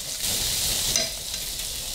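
Breaded tilapia fillet frying in oil in a pan, browned on both sides, giving a steady bright sizzle, close and continuous.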